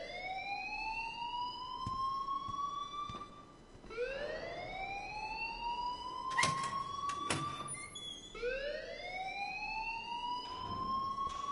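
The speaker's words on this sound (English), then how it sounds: "please turn off that alarm since that's your job" A school alarm wails in the Life is Strange video game. Each rising electronic tone sweeps upward and repeats about every four seconds, loud and continuous, with a few clanks and bumps between the cycles.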